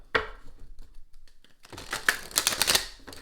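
Crisp riffling clicks of a brand-new deck of playing cards being shuffled, a short burst at first, then a longer rapid flutter of snapping cards.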